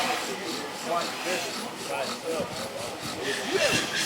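A wooden spindle rubs in a primitive friction fire drill, giving a continuous scratchy grinding with a rhythmic back-and-forth pulse, close and moderately loud.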